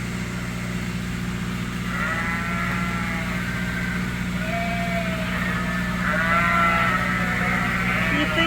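Sheep bleat on a farm on the first day of corn harvest, several overlapping calls rising over a steady low engine-like drone, fairly close and loud, with someone speaking faintly in the background.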